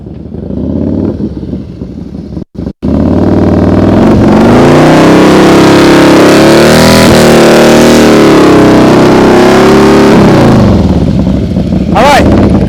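A motorcycle engine idles and putters at low speed during a night practice session, rising slightly as the rider works through slow turns, loud and close for most of the stretch with a brief cutout.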